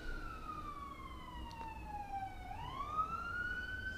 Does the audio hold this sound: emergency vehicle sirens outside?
yes